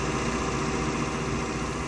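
A new tractor's engine idles in a farming simulator, a steady, loud, throbbing low rumble with constant mechanical vibration and no change in pace.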